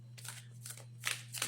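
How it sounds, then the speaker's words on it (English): Tarot cards are shuffled by hand in several quick riffling bursts, close and fairly quiet, with a faint steady hum in the background. "Shuffle up the cards."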